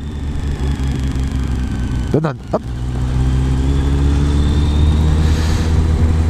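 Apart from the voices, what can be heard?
motorcycle engine riding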